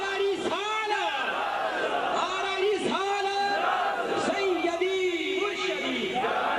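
A gathering at a mehfil-e-naat in Tarnote, Azad Kashmir, answers the Naara-e-Risalat chant with loud, full-throated collective shouts that rise in rhythmic bursts every second or so and echo through the space.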